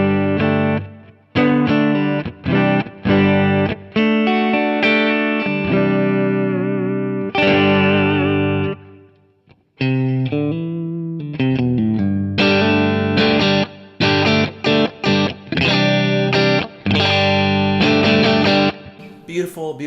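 Electric guitar run through a Kingsley Minstrel overdrive pedal into a Fender-style amp profile, playing loud, mildly driven chords and single notes with short pauses between phrases, with no talking over it.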